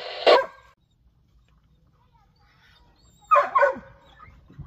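Hunting dog from a hillbilly kennel barks outdoors, one sharp bark followed after a silent gap by a quick double bark, fairly close and clear with no talk.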